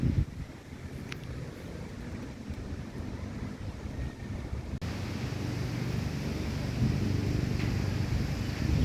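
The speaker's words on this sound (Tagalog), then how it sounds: "Lakas kainan ng hangin mga kapitpol, biglaan kasi yung hangin." Strong sudden wind roars steadily into the microphone, a dense rumbling rush that swells louder partway through, with no voices.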